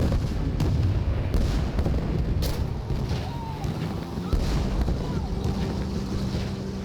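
Bombs dropped from a 110 aircraft explode in War Thunder, heard as a continuous heavy rumble buffeted by wind noise, broken by a few sharper bursts.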